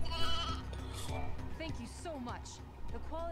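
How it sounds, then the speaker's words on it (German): Sheep bleat several times in a Final Fantasy game, short wavering cries rising and falling over game sounds while a voice talks. "solltest du vielleicht die großen Schafe hier fangen?"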